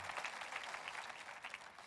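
Faint, even applause from a church congregation during a sermon, a steady wash of clapping with no speech over it.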